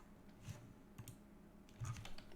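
Typing on a computer keyboard, heard as a few quiet, scattered clusters of soft keystrokes with pauses between them, alone with no talking.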